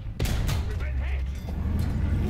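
Gunfire and shell impacts batter a Valentine Mk3 tank in War Thunder as a dense, continuous rumble of booms and cracks, loud and close throughout with no clear gaps.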